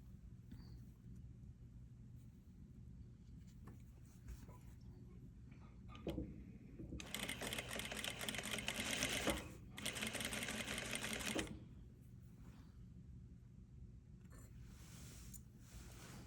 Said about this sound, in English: I am sewing.